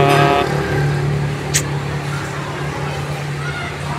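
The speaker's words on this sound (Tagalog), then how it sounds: "Ayan yung sasakyan nila, ano, Papa ni Ria" A family's car idling steadily outdoors in the Philippines, a loud low engine hum with passing road noise, while people talk nearby at the start.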